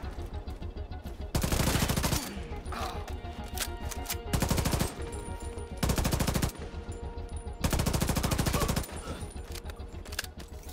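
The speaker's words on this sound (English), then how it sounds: "I like this gun. This gun's good." Bursts of automatic gunfire in Tom Clancy's The Division 2, four long loud volleys of rapid shots with shorter pauses of game ambience and scattered shots between them.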